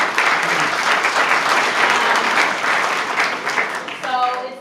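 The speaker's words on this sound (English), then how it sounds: "can we please give him a round of applause for keeping that office" An audience at a town-hall style event gives a sustained round of applause, dense and fairly close, with a voice starting to speak as the clapping fades at the end.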